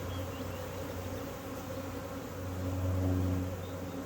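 Honey bees buzzing around a hive, a dense continuous drone that swells a little louder toward the end, close and steady, with no talking.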